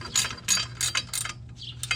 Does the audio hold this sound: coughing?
no